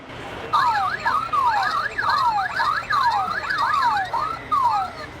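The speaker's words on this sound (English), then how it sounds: "it'll actually set off the alarms and the car alarms inside of the auto carrier" Car alarms sound inside a Lionel toy train auto carrier: several overlapping warbling, sweeping electronic siren tones repeating rapidly and steadily, fairly loud and close, with no talk.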